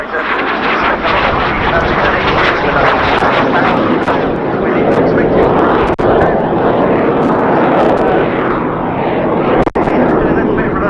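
A Short Tucano Mark III propeller trainer runs its engine at the RAF Cosford Airshow 2019, a loud, continuous, close roar that holds for about eleven seconds with a voice talking over it.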